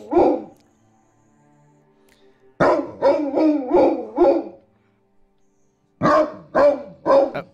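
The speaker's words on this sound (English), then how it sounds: "So he's just gonna sit there and keep barking at me until I like click away from him." A dog in the Black Legend video game barks repeatedly, a close, loud burst of four or five rapid barks, a pause, then another quick series of barks.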